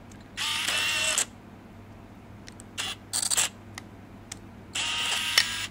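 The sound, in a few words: film camera shutter clicking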